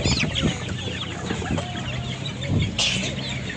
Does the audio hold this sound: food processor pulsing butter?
no